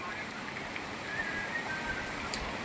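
Light monsoon rain patters softly and steadily in Moti Gop, Gujarat, a faint even hiss with a thin whistle-like tone drifting over it briefly.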